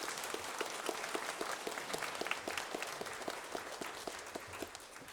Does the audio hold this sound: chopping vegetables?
no